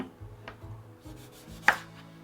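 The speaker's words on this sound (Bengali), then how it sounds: "টমেটোটা কেটে নিচ্ছি" A knife chops a tomato on a cutting board with a few soft, irregular thuds, ending in one sharper, louder knock, close and quiet, with no talking.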